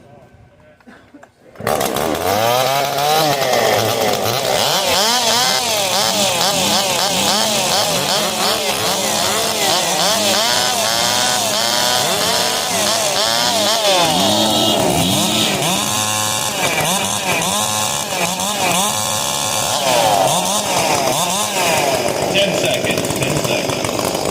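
Several chainsaws run together at a wood-cutting competition, revving and idling in overlapping rising and falling whines during a warm-up before the start; loud, continuous, and close, starting after a short quiet moment.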